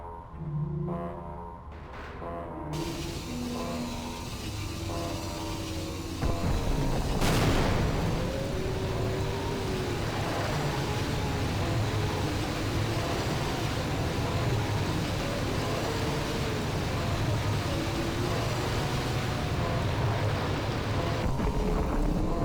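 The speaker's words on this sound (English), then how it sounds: "With the power back on and the rocket engine primed with fuel, we initiate the test fire sequence and watch the light show" A rocket engine test fire in the Half-Life video game roars as one loud, sustained, dense blast that swells after a sharp onset and rumbles on steadily to the end, with a musical hum underneath earlier.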